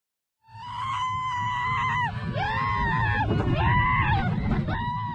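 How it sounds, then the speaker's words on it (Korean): Loud, sustained high-pitched screaming from several riders on a Tokyo amusement park roller coaster, rising and falling in waves over a rumbling background of rushing motion. "함성을 내지르며 마음껏 속도를 즐겼던 일본 도쿄의 한 놀이공원 롤러코스터"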